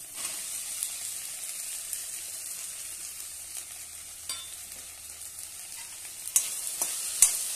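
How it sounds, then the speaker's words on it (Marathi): Finely cut okra sautés in oil in a pan for a fenugreek okra dish, with a soft, steady sizzle, light stirring scrapes and a few sharper clinks toward the end, close and with no one talking. "छानपैकी तेलामध्ये परतून घेऊया"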